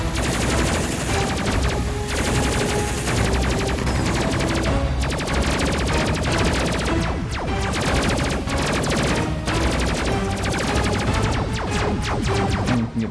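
Sustained, loud automatic gunfire in the Space Crew video game, a relentless stream of rapid shots with barely a pause, heard on its own without voices for over ten seconds.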